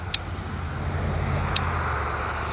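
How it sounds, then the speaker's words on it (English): Cars passing on a road beside cotton fields, a steady distant rumble of traffic with faint hiss, plus two brief sharp high ticks. "you can probably hear some of the cars going by"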